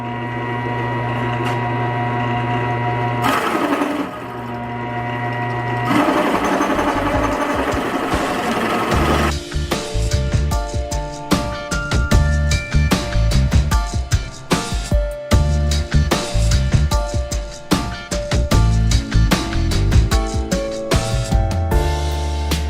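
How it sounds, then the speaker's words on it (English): A lathe hums steadily while a Forstner bit drills out a wooden goblet cup, the cutting turning rough and chattering with rapid irregular bursts as it bites deeper. "So I'm now going to drill out the cup."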